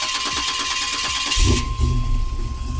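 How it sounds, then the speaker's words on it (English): A 1987 Buick T-Type engine cranks with a rhythmic starter whir, then catches partway through and settles into a deep, rumbling cold idle with an aggressive cam, loud and close. "I'm gonna start her up."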